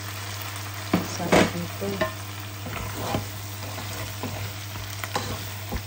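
Crabs fry in a hot pan with a continuous sizzle and several scraping stirs, loudest early on, while a person briefly speaks over the cooking.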